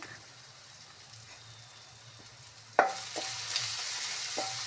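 Tomato masala with chilli powder and salt stirred in a pan, a soft sizzle under scraping spoon strokes that start suddenly and repeat every second or so, close and moderately loud.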